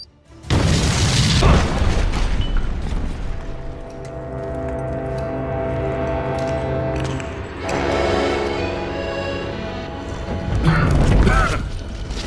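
A grenade blast in an animated game-style action scene: heavy booming impacts with mechanical clatter and a rumbling tail, loud and close, mixed with shouted voices and music.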